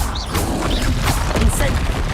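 Spell blasts and explosive bursts from the Hogwarts Legacy video game, a rapid jumble of booms and crashes packed closely together, loud and dense throughout.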